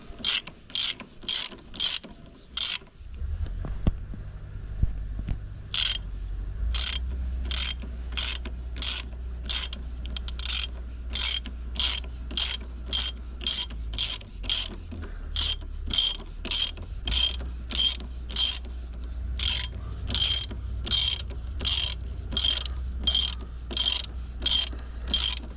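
A hand ratchet tightens a bolt on the front fork of a 1991 Yamaha Venture Royale motorcycle, its pawl clicking in loud, close, rapid runs of even strokes with brief pauses to reset, over a low steady hum.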